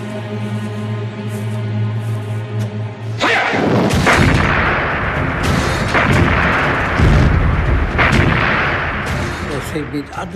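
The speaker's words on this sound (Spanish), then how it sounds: "Empezó con el bombardeo de la artillería y luego todo lo demás." A WWII artillery bombardment opens after a low droning hum, with heavy booms and cracking blasts rolling on continuously, loud and close, with scattered sharper bursts.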